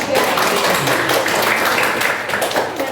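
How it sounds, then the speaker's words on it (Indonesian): Audience applause for a student presenter during a micro-teaching classroom session, a dense burst of clapping that holds steady for a few seconds, with faint voices mixed in. "tepuk tangan dulu untuk Mbak"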